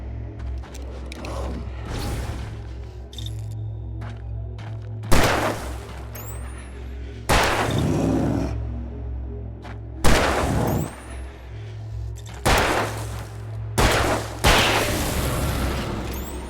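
Gunfire in the video game Alan Wake: a handful of sharp, loud shots with booming tails spaced a couple of seconds apart over a low droning ambient backdrop.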